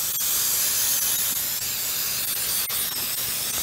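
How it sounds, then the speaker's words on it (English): Cooking spray hisses steadily onto a plain bundt pan for strawberry shortcake, a close, continuous aerosol spray with a few brief breaks and clicks. "I'm going to spray it really well"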